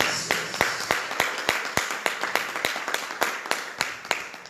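Audience applause at a church seminar: a steady run of sharp, evenly spaced claps repeating quickly for several seconds, fairly close and clear, with no talk over it.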